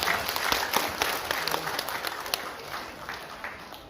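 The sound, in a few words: audience applause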